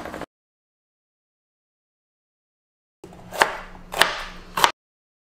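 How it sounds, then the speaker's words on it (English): A knife chops parsley and chives in three crisp, close strikes about half a second apart, after a long stretch of silence. "Now going to chop the parsley and the chives."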